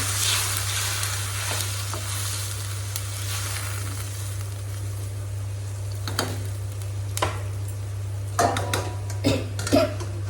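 Previously fried fish pieces going into a hot pan of masala, a steady close sizzle with occasional clinks and scrapes of a utensil against the pan toward the end, over a constant low electrical hum.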